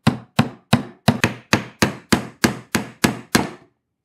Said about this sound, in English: And gentle with the hammer